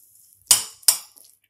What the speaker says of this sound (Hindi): अब इन सारे इंग्रेडिएंट्स को हम चम्मच से पहले मिक्स कर लेंगे।